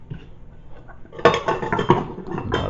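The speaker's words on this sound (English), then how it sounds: "Find my pots, gotta put them away the way they're supposed to be." Metal camping cookware pots clink and clatter as they are nested together and packed away, a few sharp knocks standing out over quieter handling noise.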